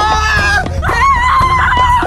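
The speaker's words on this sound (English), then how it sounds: "come down and be panicked villagers for Dale, for when it gets desolated by smog" Panicked villagers of Dale screaming for The Hobbit, a close group of voices wailing and shrieking in sustained, wavering cries for about two seconds.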